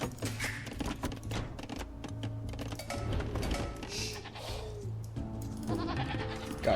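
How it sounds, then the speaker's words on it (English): Goats bleat in a strategy video game, several short nasal cries rising over a busy, cluttered mix of game sounds and clicking, fairly close and moderately loud. "Got goats."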